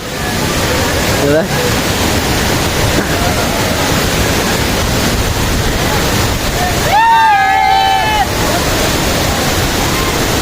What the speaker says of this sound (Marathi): आलेलो आहे मी जवळच धबधब्याच्या हे बघा धबधबा